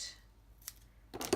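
Scissors snip through tape while assembling a one-color flower shop paper craft, giving a short brisk cut near the end after a faint earlier snip, close and alone with no talking.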